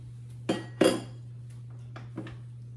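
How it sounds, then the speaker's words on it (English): Utensil stirring a thick three-ingredient bread dough in a bowl, heard as a few sharp clinks and scrapes against the bowl, two louder strokes then softer ones, close over a steady low hum, with no talk. "now we mix it"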